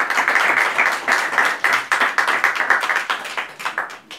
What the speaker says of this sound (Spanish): me gustaría que le dierais un aplauso por la gran música que ha hecho José Luis.